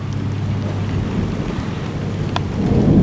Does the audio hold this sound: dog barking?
no